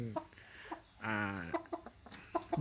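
A young Saen Kon bloodline fighting cock gives a few short clucks, then one drawn-out, strongly harmonic call near the middle, followed by more scattered clucks; close and fairly quiet, with no talking.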